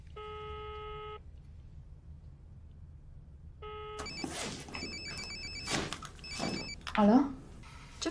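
Outgoing phone call ringing: two evenly spaced ring tones sound faintly, a pause between them. Then a person speaks over soft room noise with more beeps.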